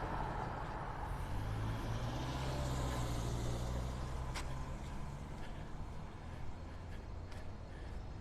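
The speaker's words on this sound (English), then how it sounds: "Waiting for traffic here." Cars and trucks pass along a road near Vanderbilt Beach in North Naples, Florida, where a construction site stands, making a constant close rumble of engines and tires with occasional brief hisses.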